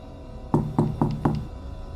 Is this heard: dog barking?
no